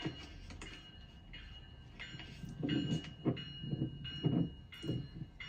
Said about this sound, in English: Here comes GO Train rolling through.